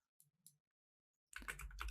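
Keys are pressed on a computer keyboard: two soft, isolated clicks, then after a pause a louder, closer burst of rapid clattering keystrokes.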